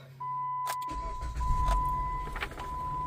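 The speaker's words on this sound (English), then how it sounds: "And now I'm gonna start my vehicle." A Jeep Compass engine is started with a short cranking whir, then catches and settles into a low, steady idle, heard close by from inside the vehicle, with a faint electronic chime tone running underneath.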